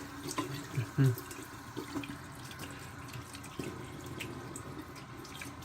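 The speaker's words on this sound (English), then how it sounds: "first I'm gonna wet my face. I'm gonna use kind of light warm water." Warm water runs from a bathroom tap into a sink to wet the face before a wet shave, a steady mid-level flow with a few louder splashes near the start and no talking.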